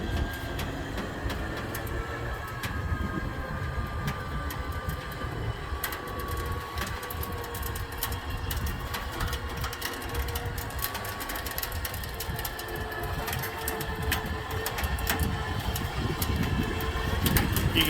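A Pierce winch running under load and pulling in its line, a steady mechanical whir with rapid ticking and a faint whine that holds nearly level throughout, close by and with no voices.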